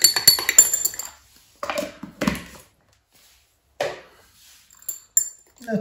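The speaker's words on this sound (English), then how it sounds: "And give it a stir again." A utensil stirs and clinks against a container of homemade conductive paint, with a cluster of sharp scraping taps at first, then a few separate clinks and scrapes spaced by silence.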